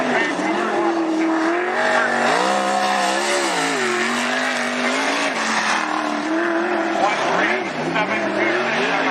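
Interstate Sprint Series sprint cars roaring through the first lap at Sunset Speedway Park, engines loud and close with pitch rising and falling as the pack circles, a continuous dense snarl with a voice talking over it.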